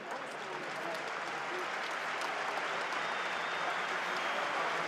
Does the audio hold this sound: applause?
yes